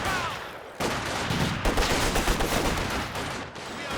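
Dense gunfire in a Company of Heroes 2 battle: rapid overlapping rifle and machine-gun bursts form a loud, continuous fusillade, with a brief lull before the shooting resumes.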